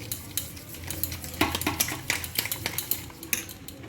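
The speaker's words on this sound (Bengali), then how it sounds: "মশলাটা ফেটিয়ে নেব।" A whisk or spoon beating yogurt with spices in a bowl, quiet irregular clinks and scrapes against the bowl, close and soft, with no talk.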